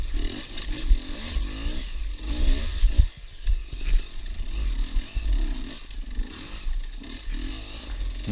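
A motorcycle in a time trial accelerates hard out of a corner, its engine revving and rising in pitch with gear changes, loud and close, mixed with wind and rattling.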